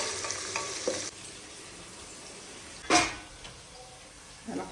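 Biryani ingredients with cardamom and cloves being sautéed and stirred in a pan, a soft sizzle with occasional scraping strokes and a louder clatter of the utensil against the pan.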